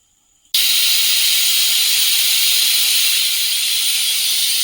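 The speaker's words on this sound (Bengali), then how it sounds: "ভাতটা সিটি ওঠার মতো হয়ে গেছে" A pressure cooker cooking rice lets out a loud, continuous steam hiss that bursts in abruptly after a brief quiet moment and holds steady to the end.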